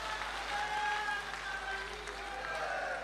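Applause from the audience at an outdoor all-India Hindi poetry gathering in Nimbahera, steady and crowd-wide for about three seconds, with some voices and a faint tonal line mixed into the clapping.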